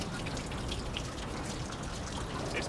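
Water seeps and trickles through a leather seal into a replica of the first submarine, a soft continuous hiss with faint drips close by.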